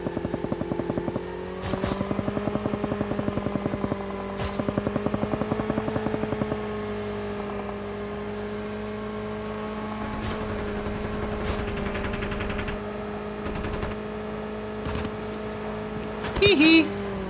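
A vehicle engine drones steadily while driving in Call of Duty Mobile, a humming, rattling motor with shifting pitch, joined near the end by a brief louder clatter.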